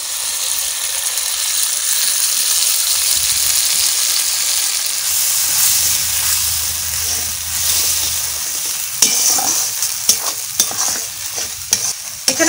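Spice paste with poppy seed paste and a little sugar fries in a pan over a village cooking fire, a steady loud sizzle under scraping stirs, with sharper clattering strokes of the spoon toward the end.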